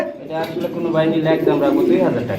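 Pigeons at a Bangladeshi pigeon farm, including Baghdadi breeds, coo in soft, rolling phrases close by, while people talk nearby.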